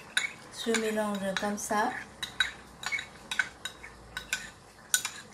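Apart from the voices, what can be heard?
stirring sukiyaki sauce with water and ginger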